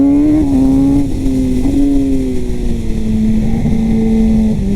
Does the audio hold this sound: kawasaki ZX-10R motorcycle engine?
yes